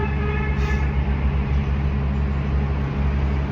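Locomotives passing in New York City, a continuous low rumble and drone with steady grinding noise, fairly loud and close, with no voices over it.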